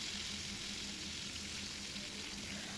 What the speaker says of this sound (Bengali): এখন আমি উল্টিয়ে দিচ্ছি